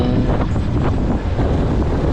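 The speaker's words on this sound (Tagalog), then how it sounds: "malakas pa rin yung hangin dito sa amin" Strong wind buffets the microphone in a constant low rumble, gusting and roaring without pause.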